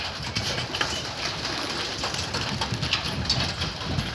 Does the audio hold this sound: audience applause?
no